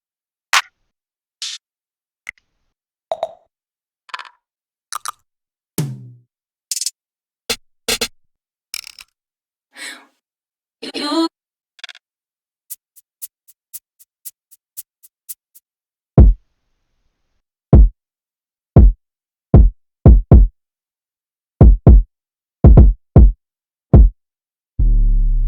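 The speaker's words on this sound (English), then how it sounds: "this is what the drums sound like all together" Sparse programmed percussion hits and clicks, then a deep kick pattern with crisp ticks, punchy and dry with silence between hits.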